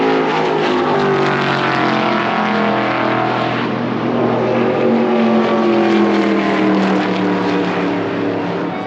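Several stock cars on the Daytona circuit track roar by close together, producing a loud, continuous engine drone that rises and falls slightly as they pass.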